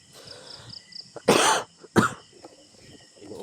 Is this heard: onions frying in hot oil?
no